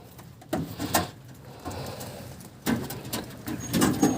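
Pigeons in their coop, soft low cooing mixed with several sharp flutters and knocks from birds moving about, heard close with quiet gaps between bursts.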